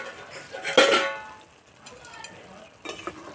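Sago bonde stirred in a pan, with a sharp metallic scrape and clatter up close, followed by softer intermittent scraping and a voice talking.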